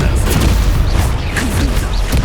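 An Expulso blasting spell explodes in Hogwarts Legacy with a loud, dense, rumbling boom that fills the whole moment with crackling debris noise.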